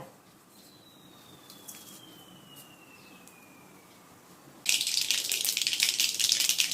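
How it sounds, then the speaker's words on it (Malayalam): A faint hiss, then a sudden loud burst of crackling and popping that continues rapidly and steadily as mustard seeds splutter in hot coconut oil nearby. "കടുക് പൊട്ടിക്കഴിഞ്ഞു"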